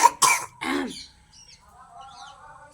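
Two or three quick, close phlegmy coughs in a row, followed by quiet background with faint distant bird chirps.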